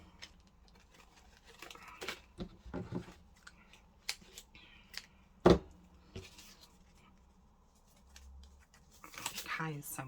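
Scissors snip paper for a handmade mini notepad in a few short, crisp cuts scattered between quiet rustling and handling, with a person talking softly in between.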